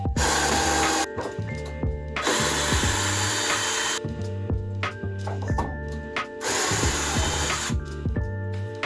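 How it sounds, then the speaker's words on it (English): A power drill backs a screw out of wood fascia on a model railroad layout, loud and close, in several sustained bursts of high whine with brief pauses and clicks between them and no talking. "I'm going to unscrew this so I can cut it out."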